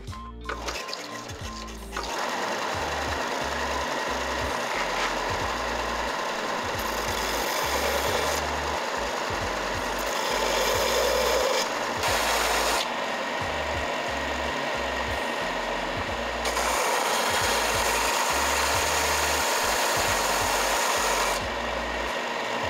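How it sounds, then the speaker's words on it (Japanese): Belt sander grinding a cast aluminum Nintendo logo, a loud, steady abrasive whir running for about twenty seconds, its tone shifting slightly as pressure on the workpiece changes, with no talking. "ベルトサンダーで削っていくよ。"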